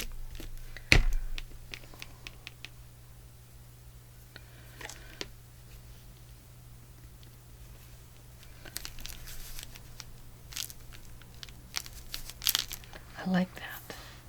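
Washi tape being handled and torn while pressed onto glued fabric, a few crisp rips and crinkles scattered among soft rustling over a steady low hum.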